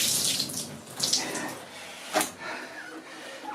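Water drained out of a blocked toilet during a bathroom repair: a close, continuous gurgling rush with splashy surges, and a voice talking over it.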